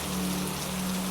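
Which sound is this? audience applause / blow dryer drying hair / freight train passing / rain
rain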